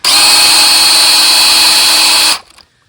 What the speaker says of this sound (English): I'm gonna put a drill on her